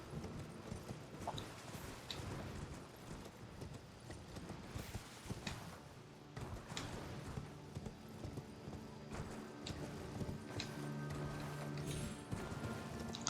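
Horse hooves galloping in Elden Ring, a fast rhythmic clip-clop of a ridden mount that stays fairly quiet, with brief jump and landing thuds and an occasional neigh over ambient game sound.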